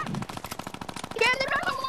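Rapid automatic gunfire in an online arena shooter video game, a fast rattling burst of evenly spaced shots running through the whole moment, with a voice briefly talking over it near the end.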